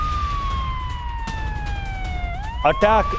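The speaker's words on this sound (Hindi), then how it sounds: "तेल अवीव में एयर रेड अलर्ट के सायरन।" Air raid alert sirens wail across Tel Aviv in a long, slowly falling tone that rises again, heard at a distance and steady. A human voice cuts in briefly near the end.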